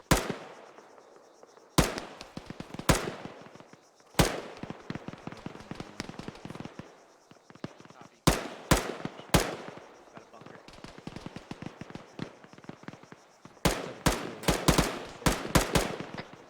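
Bursts of ArmA 3 gunfire in a tactical squad firefight: sharp repeated shots and rapid volleys, some near and loud, others thinner, with quieter stretches of scattered single cracks between them.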